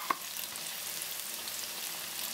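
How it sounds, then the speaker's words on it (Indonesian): Chicken dipped in batter sizzles steadily in hot oil, a close, continuous crackling fry with no talking. "Senang je, celup and then start goreng."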